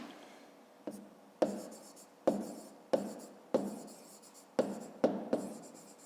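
A pen scratches out a math solution on paper in a series of short strokes, each starting with a sharp tap and fading, close and fairly quiet, with no voices.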